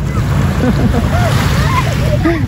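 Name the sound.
sea waves at the beach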